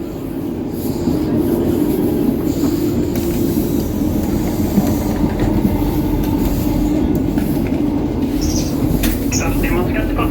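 Inside a Great Western Railway passenger train running from Portsmouth toward Cardiff, a steady, close rumble of wheels and motor fills the carriage, with light clatter and faint background voices.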